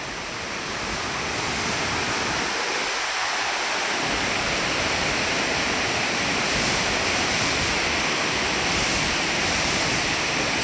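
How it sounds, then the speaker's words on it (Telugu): Kothapalli waterfall near Vizag pours in a steady, broad roar of rushing water, constant and fairly close, with no voices over it. "అసలు ఎంత అద్భుతంగా వాటర్ ఫాల్ వెళ్తుందో చూడండి"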